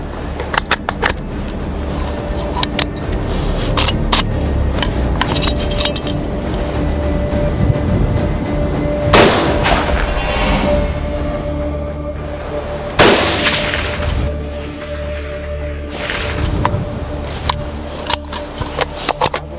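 Gun tests firing bullets through melons and bulletproof glass, with two loud, sharp shots well apart amid clanks, handling noise and background rumble.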